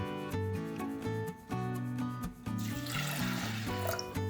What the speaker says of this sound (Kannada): ಒಂದು ಬೌಲ್ ಹುರುಳಿಕಾಳಿಗೆ ಒಂದು 2 ಬೌಲ್ ಆಗೋಷ್ಟು ನೀರು ಹಾಕ್ತಾಯಿದ್ದೀನಿ.